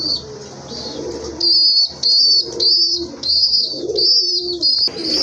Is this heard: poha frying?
no